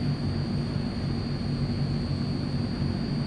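Transall C-160 military transport aircraft engines in Microsoft Flight Simulator: a steady, loud turboprop drone with a deep rumble and a constant high whine, unbroken and alone throughout.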